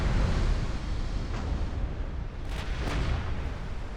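Torpedo hits striking warships in the naval battle game Ultimate Admiral Dreadnoughts, a steady roaring rumble of distant explosions and churning water with a couple of sharper blasts standing out near the end, no voices.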